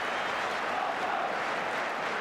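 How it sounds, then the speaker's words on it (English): Spectators at a football match between Arsenal and Liverpool roar in a steady, broad wash of crowd noise that fills the stands, continuous and moderately loud with no distinct voices picked out. "The crowd in the background so anxious to see Nicholas do well"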